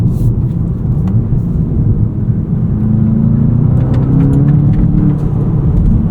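A manual 2025 Volkswagen Jetta GLI drones loudly from inside the cabin while driving, its engine note climbing and falling through revs over a constant road rumble.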